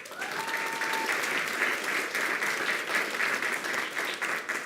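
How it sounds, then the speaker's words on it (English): Steady, sustained applause from an audience honoring elementary school students at a school board meeting, dense and even throughout with no talk over it. "A round of applause for students from Rudy Silva Elementary."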